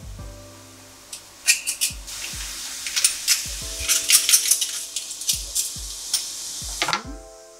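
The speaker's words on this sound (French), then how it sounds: "Voilà, je mélange un peu." Crushed garlic, three cloves, stirred in a pan for a spring vegetable gratin: a soft sizzle with scraping spoon strokes and light clinks, irregular and close, with no talking.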